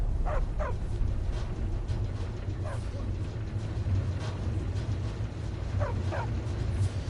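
Short paired barks from a dog in the Skyrim game come at the start, once more midway, and again near the end, each burst fairly close over a constant low droning game ambience.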